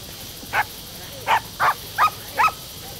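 Several dogs barking on a search party through forest near the Aarey area in a Hindi thriller film, five sharp barks spaced irregularly over steady background noise, moderately near.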